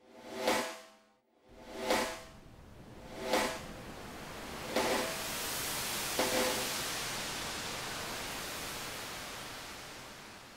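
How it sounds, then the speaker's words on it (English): A reversed, shortened linear reverb from the H-Reverb plugin swells up in a string of soft noisy bursts, each rising and cutting off, then blurs into a sustained wash of hiss. "go back to a linear reverb, let's make it a little bit shorter, I can just reverse the whole thing very easily."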